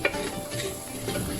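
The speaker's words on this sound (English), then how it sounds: "You need to fry this dal well for the flavor and taste." Dal fries in a pan for a Himachali dham dish, giving a steady, close crackling sizzle with faint stirring scrapes and no voices.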